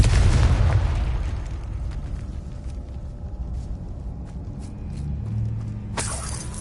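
Confringo fire spell detonating in the Hogwarts Legacy video game, a loud, deep explosive boom at the start rolling into a long rumbling decay with crackling debris, then a bright burst near the end.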